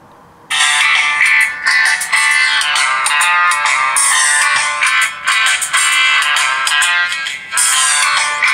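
An iOcean X7 HD smartphone's loudspeaker plays a bright melodic ringtone, loud and close, running continuously with short rhythmic breaks between phrases.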